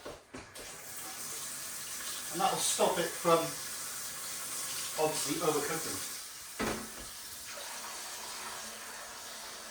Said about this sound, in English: And then I'm going to fill this up with cold water.